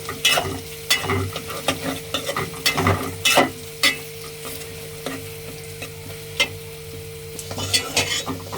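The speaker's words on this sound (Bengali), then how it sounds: "এখন আর একটু ভাজবো।" Shrimp, garlic and bay leaf sizzle steadily in a pan while a utensil scrapes and stirs in repeated bursts, close and fairly loud, with no talking.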